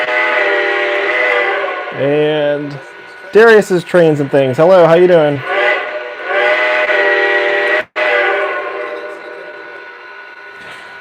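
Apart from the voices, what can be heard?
Lionel/MTH model train engine with five-note whistle blowing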